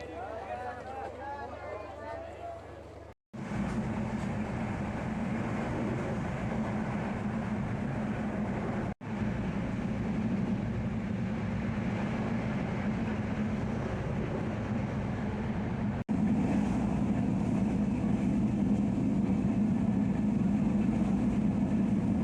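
A train pulls out of Airport station with a steady low rumble and rattle of carriages that holds throughout, broken by a few abrupt cuts, and voices talk over the opening seconds.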